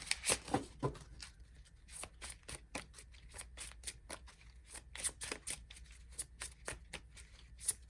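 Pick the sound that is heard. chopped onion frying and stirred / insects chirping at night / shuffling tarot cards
shuffling tarot cards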